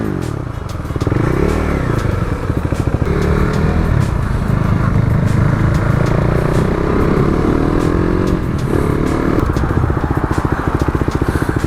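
A KTM 390 Duke motorcycle riding on brand-new tires, its single-cylinder engine buzzing steadily at moderate revs with rough pulsing, wind rush and rider-mounted closeness for the whole stretch.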